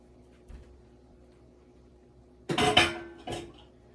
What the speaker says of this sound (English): so we can get rid of our pan